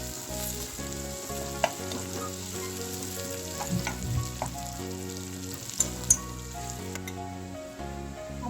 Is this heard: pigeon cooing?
no